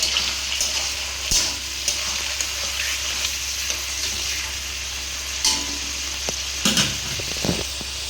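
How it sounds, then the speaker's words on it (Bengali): Shrimp fry in hot oil in a wok, giving a steady, close sizzling hiss with occasional sharp spatters and scraping stirs of a utensil, with no talking. "কড়াই দিয়ে দিলাম আমি চিংড়িগুলো, এবার ভেজে ফেলবো এটাকে ভালো করে।"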